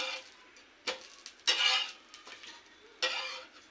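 A crispy hotel-style dosa is being roasted on both sides on a pan, giving soft intermittent sizzling bursts with scraping, near and fairly quiet, with no talk.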